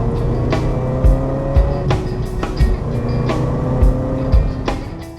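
A Chevrolet Corvette ZR1 is driven close by, its engine droning with repeated sharp throttle blips and brief surges over a steady rumble.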